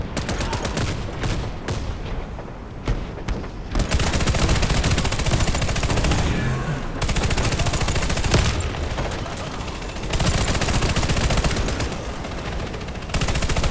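Sustained machine gun fire in the Warface video game, loud dense bursts running almost continuously with brief gaps, in a tense urban street fight.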